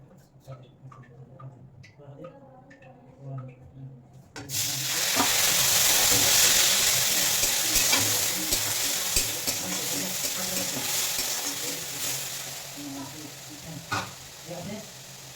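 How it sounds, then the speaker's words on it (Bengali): Gobindobhog rice fries in ghee, a quiet opening giving way after about four seconds to a loud, dense, steady sizzle with light stirring crackles that holds until the end. "তো বন্ধুরা এই ঘিয়েই আমি চালটা ভেজে নেবো"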